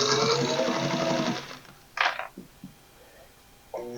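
Sewing machine stitching fabric for a pedal bag, a close rapid mechanical whirring burst lasting over a second, then a few short clicks and brief stitch bursts after pauses.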